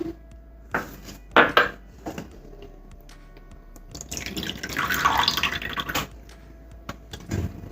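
Water splashes and pours out in a short rush as it is drained from spinach, among a few clinks and knocks of kitchenware, with scattered drips before and after.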